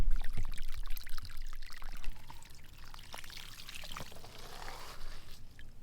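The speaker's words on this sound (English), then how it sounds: "Oh, and we got a leak right here." Water pours and splashes steadily from a leak in an irrigation pipe outdoors, a continuous close gurgling stream with no talking.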